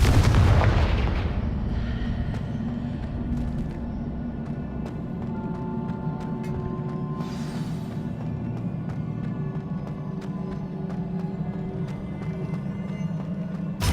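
Confringo fire-spell blasts in Hogwarts Legacy land as a deep, rumbling barrage with a loud initial boom, then sustained low explosive roar and crackling bursts under steady game ambience.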